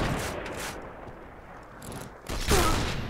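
Bursts of rapid gunfire from a DSR-1 sniper rifle in the online shooter Point Blank. A few sharp shots come at the start, a quieter stretch follows, and a louder burst arrives near the end.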